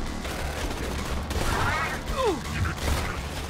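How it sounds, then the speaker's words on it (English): Rifle gunfire in the video game Borderlands 2 comes as a run of sharp shots and bursts, fairly loud and close, layered over a busy mix of other game noise. "I'm shooting their legs off with my rifle."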